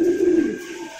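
A single low, throaty coo from a pigeon at a pigeon farm, close and clear, fading out within a second.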